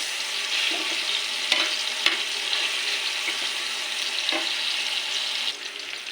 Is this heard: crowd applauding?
no